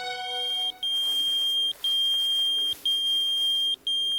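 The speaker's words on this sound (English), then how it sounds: "The sound of a pager going off in the grass a few feet from the victim." A pager lying in grass outdoors goes off with a loud, steady electronic beep repeated in four long tones separated by short gaps, alone with no talk.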